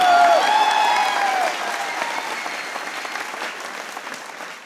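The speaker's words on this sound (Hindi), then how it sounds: "बजा सकते हो तालियां, बजा लो यार।" Steady audience applause fills a comedy show studio after a Pakistan versus India Asia Cup 2025 cricket joke, loud at first and then tapering a little, with a brief whistle-like tone near the start.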